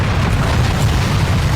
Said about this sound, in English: Bros is crashing planes for fun.